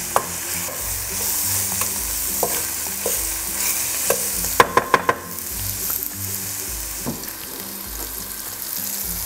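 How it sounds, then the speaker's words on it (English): Kimchi stir-frying in a pan, a steady close sizzle under repeated scraping and stirring strokes, with a quick run of utensil knocks against the pan midway. "but I like to cook the kimchi a little bit longer."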